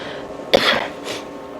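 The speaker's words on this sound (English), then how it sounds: "I know I was getting ready to cough." A single short cough, close and sharp, followed by a softer breathy exhale in a quiet room.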